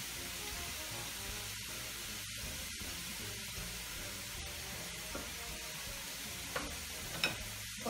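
Onion frying in a pan makes a quiet, constant sizzle, with a few faint taps and scrapes of stirring near the end.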